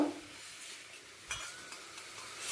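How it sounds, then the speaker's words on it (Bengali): Paneer and potatoes being stirred together in a pan for a vegetarian curry, a quiet steady sizzle with a single soft scrape of the spoon partway through. "পনিরগুলোকে ছেঁকে আলুর সাথে এক মিনিটের জন্য"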